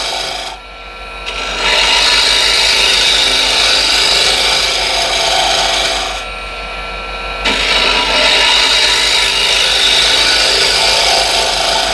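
Woodturning tool scraping a spinning piece of wood on a lathe, a loud continuous rasping hiss up close, briefly easing off twice before resuming.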